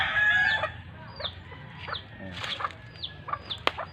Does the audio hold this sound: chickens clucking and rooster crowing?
yes